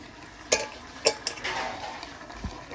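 Raw masala, onion, green chillies and dried red chillies stirred together in a pot for a spicy chicken curry: a few distinct clinks and scrapes of a spoon against metal over a soft background hiss, close by, with no voices.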